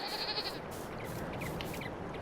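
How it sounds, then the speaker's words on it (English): Sheep in the Farming Simulator 22 video game bleat faintly in a few short, wavering calls over a steady hiss, with no speech. "Let's go down here and check on the sheep."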